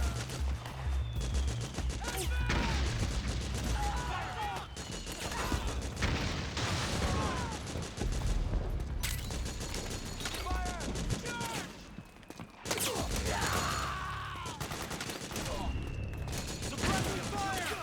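Metal Gear Solid 4 battle gunfire crackles as rapid rifle and machine-gun bursts in steady volleys, with clanking mechanisms and shouted voices over the fighting throughout.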